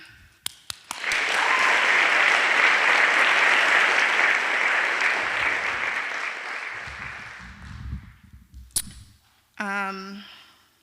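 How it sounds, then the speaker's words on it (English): Applause from an audience at a college storytelling event breaks out after a few sharp claps, holds as dense, loud clapping for several seconds, then thins out, and a voice speaks near the end. "applaud all of the storytellers tonight"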